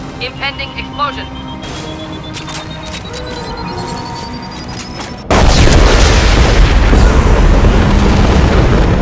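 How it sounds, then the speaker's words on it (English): A sudden loud explosion erupts in the Mass Effect Legendary Edition video game, cutting in partway through and leaving a dense, sustained roar of blast noise after a quieter stretch of game sounds with a rising whine. "Impending explosion"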